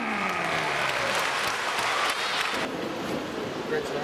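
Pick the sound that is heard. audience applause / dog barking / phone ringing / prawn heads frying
audience applause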